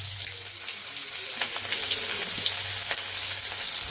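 A close, steady sizzle of chopped onions frying in oil, with constant crackle and occasional small pops throughout.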